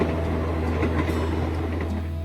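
A train rumbles along the rails with a steady low drone and faint clattering, used as an effect in a narrated Aesop fable about a country mouse riding to the city.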